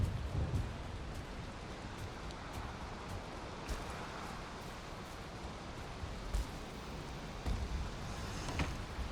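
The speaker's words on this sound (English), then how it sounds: "Alright, well, I guess we're getting a storm." A rainstorm with thunder in the video game Valheim: a steady hiss of rain with low rumbles and sharp gusty crackles now and then, heard alone with no talking.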